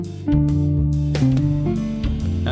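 An Akai MPC X playing a guitar and electric piano plugin arrangement together, with plucked guitar notes and sustained keyboard tones moving through a short chord progression, loud and dry.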